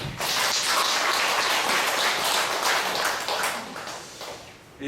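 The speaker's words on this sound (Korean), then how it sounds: "생신 맞으시는 분들을 위해서 축하의 큰 박수." An Anglican congregation at a Sunday Eucharist bursts into loud, close celebratory clapping for parishioners' birthdays, a dense wash of claps that holds for several seconds and then tapers off.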